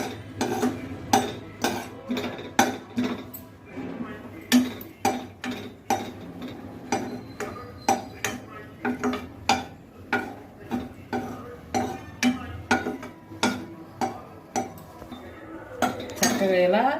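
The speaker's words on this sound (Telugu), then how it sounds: "చక్కగా ఇలా మాడిపోకుండా జీడిపప్పు వేయించుకోవాలి" Cashew nuts frying in melted ghee in a pan, with a steady series of sharp metallic clinks and scrapes from a spoon stirring against the pan, close and fairly loud, continuing for the whole stretch.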